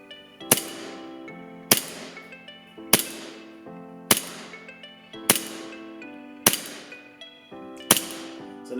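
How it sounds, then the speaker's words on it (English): A Cybergun Colt 1911A1 CO2 airsoft pistol fires 0.2 gram BBs through a chronograph at a range: seven sharp, evenly spaced reports, each followed by a ringing metallic decay, with nobody talking. "So I'm going to put the slide back on, take it to the range and chrono."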